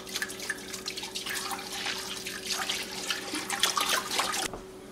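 A half gallon of whole milk pours into a pot for cheesemaking, a continuous splashing, gurgling stream close by that runs for several seconds and then stops suddenly.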